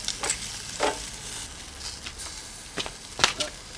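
Jamaican jerk chicken charring on a barbecue grill gives a low, steady sizzle, with scattered brighter crackles and pops breaking through at intervals and no talking.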